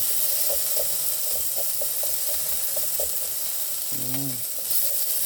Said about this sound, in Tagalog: Dapat kawali. Talsik-talsik ang mantika.